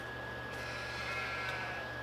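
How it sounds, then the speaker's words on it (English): Sheep bleating in a farming video game with sixty sheep in a pen, heard as a steady background of flock sound with a faint hum and a few soft bleats rising around the middle, no talking. "They both have 60 sheep in there."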